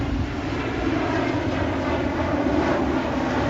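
A KLM airliner passes overhead at Heald Green with a steady, loud jet roar that fills the whole stretch without letting up and has no voices over it.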